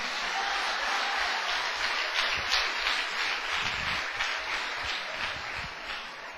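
An audience at a church service applauds, a dense, even wash of clapping that holds steady for several seconds with no voices on top.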